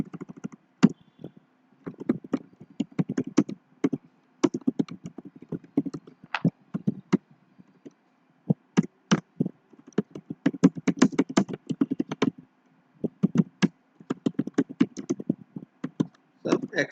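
Someone types steadily on a computer keyboard while writing LaTeX code, producing quick, close clusters of clicky keystrokes broken by short pauses, with no voice over them.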